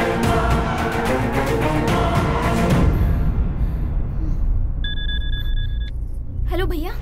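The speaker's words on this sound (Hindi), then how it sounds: "कब से फोन कर रहा हूँ, उठाए क्यों नहीं?" A telephone rings twice in a dubbed Telugu action movie scene, a clear double-tone ring that follows loud traffic and car rumble fading into quieter ambience, with a brief voice at the very end.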